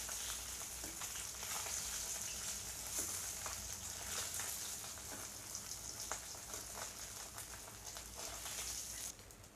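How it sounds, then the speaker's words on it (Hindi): Fish fries in hot oil in a pan for an Odia-style potato and fish curry, giving a steady, fairly quiet sizzle with soft crackles and occasional stirring clicks throughout. "सब मछली फ्राई हो चुका है,"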